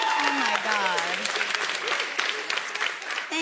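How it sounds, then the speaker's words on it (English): Audience at a stand-up comedy show bursts into loud, sustained clapping and cheering, a dense wall of applause under which a comedian speaks into a microphone. "Thank you for looking at the applause sign."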